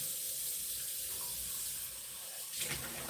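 Tap water runs steadily into a kitchen sink for a beet pickling vinegar mix, a soft continuous hiss and splash that briefly surges near the end, with no talking.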